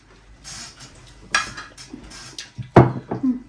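Ceramic plates and cutlery clink and clatter close by in a home kitchen as food is served, with a few sharp knocks and scrapes building to a louder cluster near the end.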